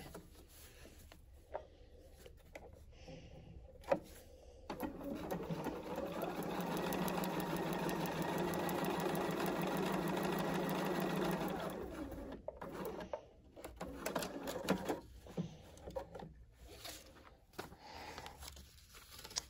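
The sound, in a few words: sewing machine stitching a line on a quilt template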